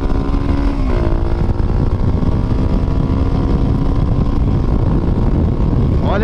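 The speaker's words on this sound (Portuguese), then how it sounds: "Qualquer aceleradinha, a moto já tá topando seu 140" A tuned Honda Falcon motorcycle at speed on a track, engine roaring loud and close with a rising pitch as it accelerates, heavy wind buffeting throughout and a speaking voice partly under the noise.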